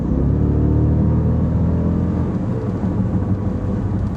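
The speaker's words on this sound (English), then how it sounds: "I just love that V8 sound" A 700-horsepower V8 in a Jeep SRT Grand Cherokee rumbles deep and loud, revving and pulling in a steady, close, throaty drone with no talk over it.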